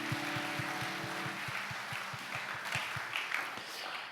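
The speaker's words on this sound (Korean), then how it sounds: "우리 그렇게 하실 하나님께 감사의 박수 올려드립시다." A church congregation at a Sunday morning university service claps in a steady rhythmic beat, each clap evenly spaced and moderately loud, with a sustained organ or keyboard tone underneath that fades early on.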